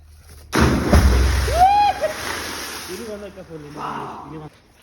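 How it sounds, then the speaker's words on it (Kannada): A person dives into water with a loud, sudden splash followed by sloshing, then a voice talks close by as the water settles. "ಇವಾಗ ನಮ್ಮ ರವಿ ಇದ್ರೊಳಗೆ ಚಿಡಿತಾನೆ ಡೈವ್ ಹಾಕ್ತಾನೆ ನೀರಿ"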